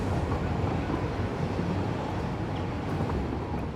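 A train arrives in the factory-building game Satisfactory, its low steady rumble and rolling clatter holding constant without any speech over it.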